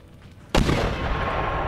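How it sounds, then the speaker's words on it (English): A single cannon booms during a siege of Tripoli in the strategy game Empire Total War: a sudden loud blast followed by a long rumbling tail, with no other shots. "There's only one cannon firing there."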